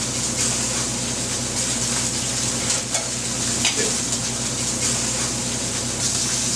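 A scallop sizzles loudly in a smoking-hot skillet, a steady dense frying hiss that fills the whole stretch with small crackling pops throughout and no talking.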